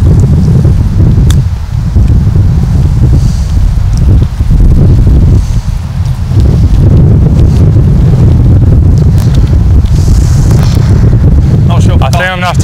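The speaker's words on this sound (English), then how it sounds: "Have to see it because it's quite windy." Strong wind buffets the microphone on a golf course, a loud, constant low roar with gusty surges throughout, and voices faintly under it.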